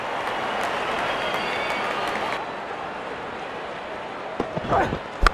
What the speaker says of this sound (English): Crowd on their feet to cheer the moment.